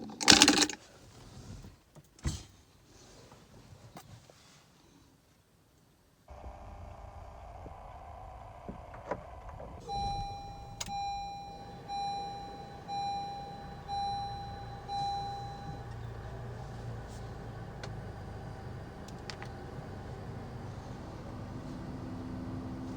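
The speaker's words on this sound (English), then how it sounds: "let's start the car with the door closed" A 2018 Honda Civic with the 1.5 TC-P engine cranks and starts with the door closed, settling into a muffled, steady idle heard from inside the cabin, with a few soft chimes and clicks over the low hum.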